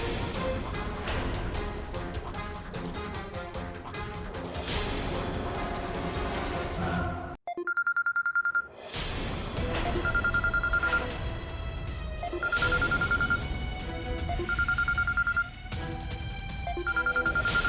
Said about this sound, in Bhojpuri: अब रउआ चैताली के नंबर लगाई।